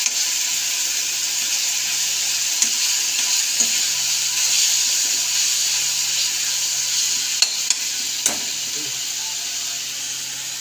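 Vegetables sizzle in a pan after tempering, a steady bright hiss close by with occasional scrapes and ticks of stirring, continuous and fairly loud throughout.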